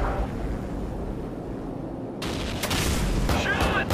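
AC-130 gunship fire in a video game, a dense rumbling barrage that becomes sharper and louder after a moment, with heavy booming bursts layered over constant battle noise.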